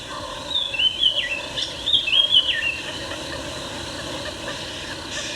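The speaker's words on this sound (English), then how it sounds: "Egrets and ibis have come back to the rice paddies to stalk fish and crustaceans." Egrets and ibis in Vietnamese rice paddies give a few squawking, chirping calls in the first half, moderately near, over a steady low hum.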